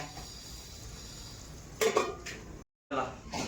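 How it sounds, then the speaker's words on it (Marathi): A metal lid set onto a pot of mixed potato and brinjal vegetable curry in a home kitchen, giving a few close clanks and clinks with a brief scrape, then a short silence and more clatter. Someone talks faintly. "आता झाकण ठेवते."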